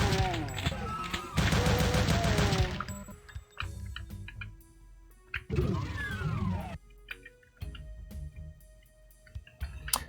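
Rapid-fire weapon shooting in the Doom game Sanctium Reborn: two dense, loud bursts of fast repeated shots, separated by quieter clicks, pickups and other in-game effects.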